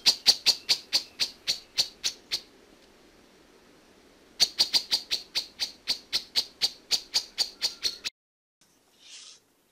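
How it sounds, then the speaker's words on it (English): Bird call: a fast series of bright, evenly spaced high chirps, about a dozen per burst, sounding in two close, clear bouts separated by a short pause, with no talk. "an audio file containing the bird's voice"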